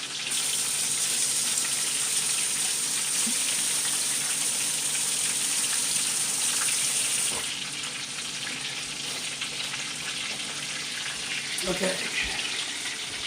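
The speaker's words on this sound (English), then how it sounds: "Let me wash my hands." A kitchen tap runs steadily with a loud, broad hiss for about seven seconds as hands are washed, then drops to a softer flow with brief splashes and clatter; a voice speaks once.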